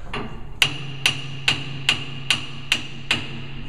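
A brass hammer taps a workpiece clamped on a machine's hold-downs, eight sharp, evenly spaced metallic knocks about half a second apart, close and clear over a low machine hum, with no talking.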